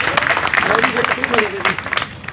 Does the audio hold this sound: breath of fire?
no